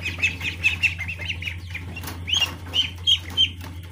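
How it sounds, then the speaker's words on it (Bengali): Farm ducks at night near water, giving a run of close, fairly loud quacking calls in short bursts over a steady low background hum, with a little wing movement and no voices. "দেখতে পাচ্ছেন আমাদের হাঁসগুলো"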